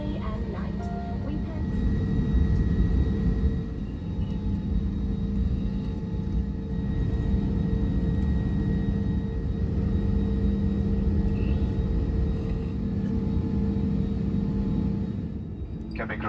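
Inside the cabin of a Sri Lankan Airlines Airbus A321neo, a steady low engine rumble and hum fills the space during taxi toward takeoff, loud and continuous throughout.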